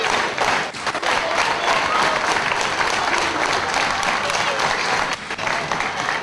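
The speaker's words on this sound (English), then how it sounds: "And this crowd come alive for Kid Kash." A wrestling crowd at an Irish Whip Wrestling event cheers and applauds steadily and loudly, dense clapping filling the whole stretch with a few brief dips.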